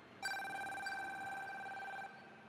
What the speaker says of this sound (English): is this the red phone ringing?